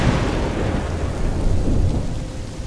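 Thunderstorm and rain in the video game A Plague Tale: Innocence, steady heavy rainfall with deep rolling thunder rumbles swelling and fading, no speech over it.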